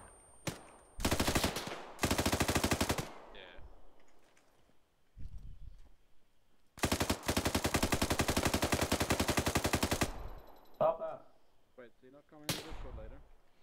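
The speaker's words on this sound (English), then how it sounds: "Why are you shooting? There's nothing to shoot at. I'm burning ammo." Heavy automatic gunfire in a Call of Duty match, two long loud sustained bursts with sharp single shots and quieter gaps between, while players talk.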